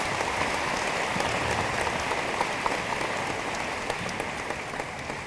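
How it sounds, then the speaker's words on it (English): Steady, even applause from a crowd at a university freshman welcome event, continuous clapping that holds at the same level throughout. "I think that deserves a round of applause."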